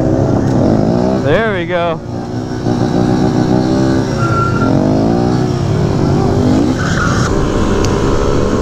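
Car engine revving hard on a street stunt drive after a downshift into first gear, loud and continuous with rising pitch sweeps and a brief tire squeal, while people shout and talk over it.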